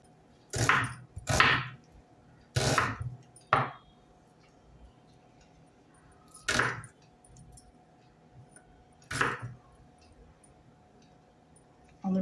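A knife chops onion finely on a board for a Malvani-style ravas fish meal: a handful of separate bursts of quick blade strikes, close and fairly loud, separated by quiet pauses with a faint steady hum behind them.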